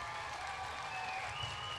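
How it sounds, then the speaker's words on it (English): Faint, distant crowd applause at a market goat show, a brief steady wash of clapping with no distinct beats. "let's give Jan a great big round of applause so loud that she can hear it wherever she is"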